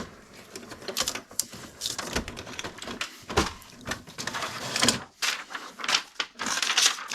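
An HP Deskjet F2180 inkjet printer making a color copy, its carriage whirring and rattling in uneven bursts with clicks and paper-feed noises close by.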